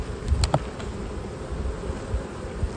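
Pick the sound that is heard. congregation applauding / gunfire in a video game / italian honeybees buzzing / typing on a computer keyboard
italian honeybees buzzing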